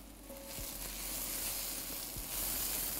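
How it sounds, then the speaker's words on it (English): Spinach sautéing in a pan for a hashbrown, sausage and egg breakfast casserole gives a steady, faint sizzle with a couple of soft clinks, and no voices. "Okay, I'm gonna toss the spinach in."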